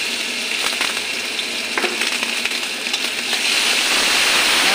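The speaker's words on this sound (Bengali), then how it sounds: "মশলাটা একটু কষে নিই।" Masala of chili paste, onion paste, cumin, coriander powder and Kashmiri chili fries in a pan, a close, continuous sizzle with occasional stirring scrapes, growing louder and fuller toward the end, with no voices.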